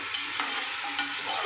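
Chicken biryani fries in a pot while being stirred, producing a loud, dense, steady sizzle close up with a few soft scraping accents, with no voices.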